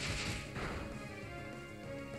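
A Shadow Sneak attack hits in the video game Pokémon Omega Ruby, a short, bright impact burst at the start that fades into a sustained tonal game hum, with no talking.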